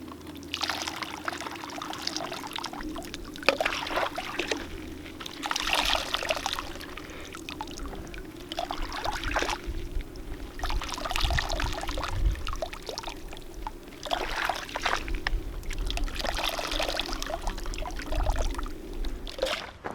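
Water pours and splashes in repeated bursts into containers at a backpacking camp in the Sierra Nevada along the Tahoe Rim Trail, each pour lasting a few seconds with short pauses between, up close and steady.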